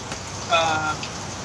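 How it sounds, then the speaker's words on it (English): Steady hiss of heavy rain during hurricane weather, falling on a surface outside, continuing evenly throughout with a brief faint voice-like tone overlapping in the middle. "Can you guys hear the rain?"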